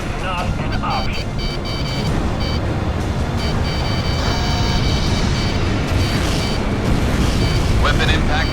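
Explosions and weapon impacts in the jet combat game Ace Combat 6, with heavy booming rumble over dense continuous noise, radio chatter and beeping tones on top.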